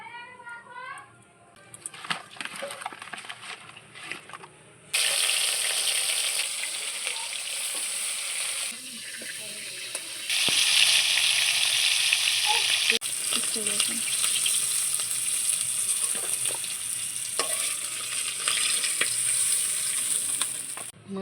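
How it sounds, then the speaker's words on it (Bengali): Fish heads rubbed with salt and turmeric frying in hot mustard oil in a wok: a loud, steady hiss and crackle that bursts in around five seconds and carries on, with faint stirring knocks and brief background voices. "এবার মাছের মাথাগুলোকে ভাজার জন্য আমি কড়াইতে নিয়ে নিচ্ছি সর্ষের তেল।"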